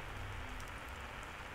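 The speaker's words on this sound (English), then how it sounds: "Oh, on top of everything, it's raining." Steady rain falls in the video game Fears to Fathom: Ironbark Lookout, a dense, even hiss close around the listener with no gaps or voices.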